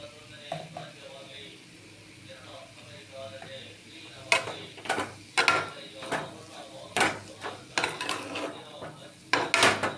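A spoon scrapes and knocks against a pan as chili powder is stirred into a mixed vegetable egg curry, with light kitchen noise at first and then several sharp, close clatters of utensil on metal. Someone talks briefly in between.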